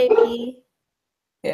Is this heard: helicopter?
no